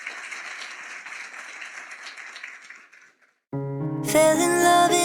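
A church congregation applauds together, a dense steady patter of many hands that fades out, followed after a short gap by loud music.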